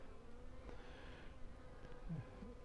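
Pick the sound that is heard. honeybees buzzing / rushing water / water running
honeybees buzzing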